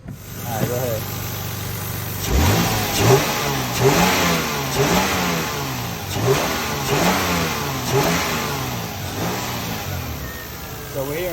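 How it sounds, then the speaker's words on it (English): Lexus GS300 engine revving after a cold start, repeated rising and falling revs over a steady idle, loud and close, with voices talking over it. "I wanted to show you guys a cold start of this motor"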